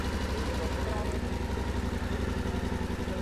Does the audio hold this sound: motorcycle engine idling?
yes